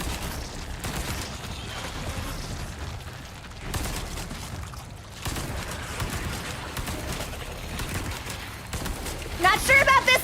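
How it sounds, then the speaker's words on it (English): Assault rifle fire in the first Resident Evil game: rapid bursts of gunfire with dense crackling shots come in waves under a busy game soundscape, with louder, sharper shots near the end. "I guess it's time for us to see what the motherfucking assault rifle does."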